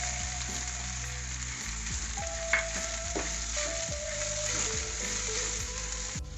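Mushrooms frying in a pan, stirred with coriander powder and chili powder: continuous close sizzling with scraping and stirring scrapes, a soft clunk midway, and a low background hum, no voices.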